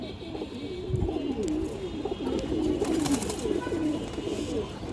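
Several pigeons, including three females kept together, coo in a continuous low, wavering drone close by, steady and moderately loud with little else heard.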